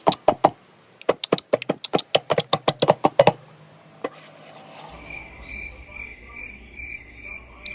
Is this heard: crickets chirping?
yes